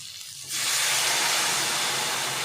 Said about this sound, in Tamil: மிளகாப்பொடி போட்டுட்டு தண்ணி ஊற்றி வேக வைக்கணும்